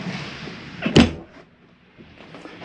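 A door shuts inside a 2022 Forest River Highwall T21TBHW travel trailer, making one sharp, close thump followed by quiet room tone.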